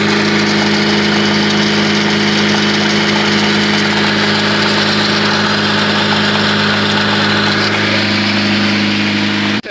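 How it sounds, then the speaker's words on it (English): A cheap, worn Honda Civic idles steadily and loudly up close, with a constant buzzing drone and a harsh vibration rattling from the clutch or transmission area, and no talking. "something in the clutch area or the transmission is vibrating pretty badly"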